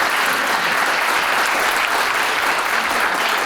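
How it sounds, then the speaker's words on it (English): A crowd at an IoT meetup featuring an Arduino founder's talk and a Maker Faire warm-up gives a round of applause. Loud, steady clapping fills the whole stretch with no break. "Let's hear a round of applause."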